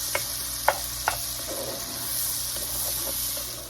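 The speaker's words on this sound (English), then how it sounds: "I'm going to let that onion cook until it gets translucent" Onion cooking in a pan for black eyed peas, a soft steady sizzle close by with a few sharp utensil taps near the start.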